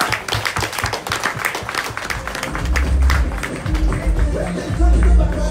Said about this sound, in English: please give Keisha Lewis another round of applause there